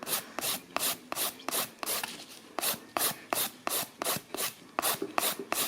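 A gel nail is filed and refined with quick back-and-forth strokes, a steady rhythmic scratching with a brief pause partway through, close and fairly clear with no talking.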